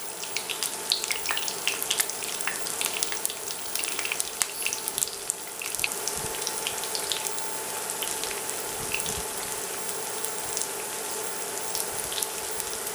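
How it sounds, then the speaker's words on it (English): Eggplant frying in oil over high heat on an induction cooker set to sear, giving a steady, dense sizzle with scattered crackles and pops throughout, close and continuous, with no talking. "So right now we're frying on high heat."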